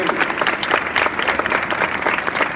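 A church congregation applauds steadily and loudly throughout, a dense wash of clapping from many hands with a few crowd voices mixed in.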